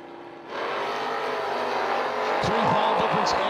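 Drag race at the starting line between a 1981 Malibu and a 1990 Mustang: engines roar in abruptly and hold a loud, sustained rising drone, with a brief tire squeal and tones sweeping up and down near the end.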